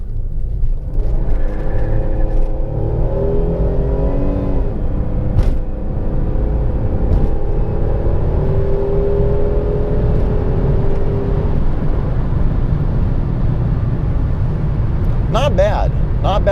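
2003 Buick Regal GS engine accelerating from the driver's seat: a loud, steady low rumble with rising engine tones that climb and shift through gears over about ten seconds, then a brief chirpy sound near the end.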